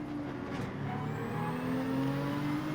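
A Nissan GT-R race car in a racing video game, heard as a steady whirring engine drone with shifting tones and a faint high whine as it slows for a heavy braking zone.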